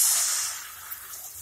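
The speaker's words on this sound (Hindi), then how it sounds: "थोड़ा पानी डालेंगे" A little water poured into tinda fry cooking in a pan over a medium gas flame gives a brief, faint hiss that quickly fades.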